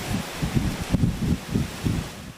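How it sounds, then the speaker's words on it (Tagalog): Strong wind from Super Typhoon Nando gusts and rustles through trees around a hotel in Santa Ana, Cagayan, coming as close, loud, pulsing surges of roaring air. "Hanggang sa sumisipol na ang malakas na hangin."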